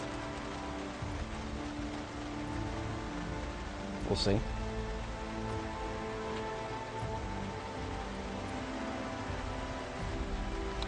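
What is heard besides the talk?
rainstorm in the video game Project Zomboid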